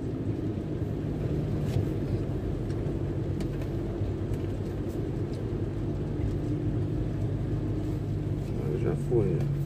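A car creeps in low gear through a flooded street during a rainstorm in Itanhaém, its engine a steady low rumble with faint splashing, under someone talking throughout.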